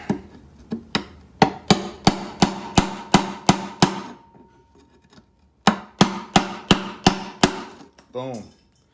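A small hammer taps rusted metal fittings on an antique carpenter's wooden tool box, giving two runs of about ten sharp, evenly spaced metallic knocks close up, split by a short pause.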